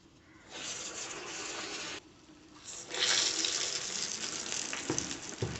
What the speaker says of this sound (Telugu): ఆయిల్ హీట్ అవ్వగానే చక్కగా ఒక్కొక్క గారె ఆయిల్లో యాడ్ చేసుకోండి నెమ్మదిగా